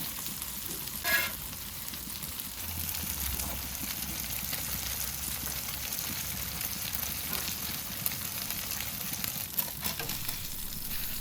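Smash burger patties sizzle on a griddle with a steady, moderately loud frying hiss, joined by occasional scraping and tapping sounds and a low hum.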